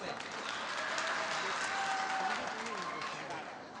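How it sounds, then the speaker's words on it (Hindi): A kavi sammelan crowd in Burhanpur breaks into hearty applause for a poet, a steady wash of many hands clapping at moderate distance, holding evenly for a few seconds before easing slightly. "एक बार जोरदार तालियां ऊपर से"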